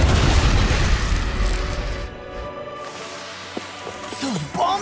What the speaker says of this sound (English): Those bombs of yours are amazing! Who needs a gun when you can send them flying?